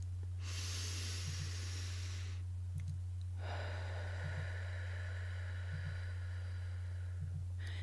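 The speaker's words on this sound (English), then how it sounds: "Take one mindful breath." A slow, deliberate breath is drawn in with a long airy hiss, then after a pause released in a longer exhale, close and soft, over a steady low electrical hum with faint periodic clicks.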